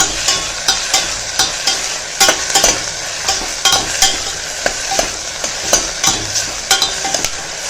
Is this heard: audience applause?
no